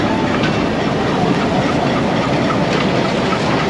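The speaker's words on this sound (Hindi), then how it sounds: "फोर्टीन डाउन अवाम एक्सप्रेस हिटाची 8316 के साथ, इसको भी लूप लाइन पर ले लिया है इधर।" An Awam Express train hauled by a Hitachi locomotive moves along a loop line in India, a loud continuous rumble and rattle of passing wheels and carriages, steady and close throughout.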